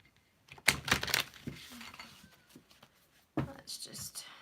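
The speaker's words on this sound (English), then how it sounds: "It's just kind of hard to shuffle on this desk." Oracle cards shuffled on a desk give a few bursts of crisp riffling and slapping, loudest early and again near the end, with soft breathy voice sounds between.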